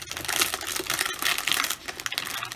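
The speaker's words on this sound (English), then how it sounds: "excuse me while I rip the packaging." Packaging around heavy-duty 110-weight Georgia Pacific cardstock is ripped open by hand. It makes a close, loud run of crackling, tearing and crinkling with dense, irregular bursts that continue throughout, and no one speaks.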